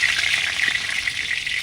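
A bay leaf hits hot oil in a pan while chicken biryani is being cooked, giving a loud, steady, close-up sizzle with no talking.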